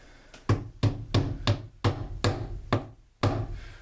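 A hammer taps a plug into AZEK PVC board through a rag, giving about nine firm, dull knocks in a fairly even rhythm, close and clear with nothing else around them.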